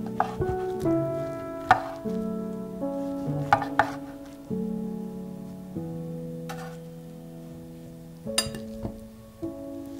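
A knife slices a rolled fried-egg log into pieces about 1.5 cm thick on a board, each cut landing as a sharp tap with a clink, spaced irregularly against a quiet background.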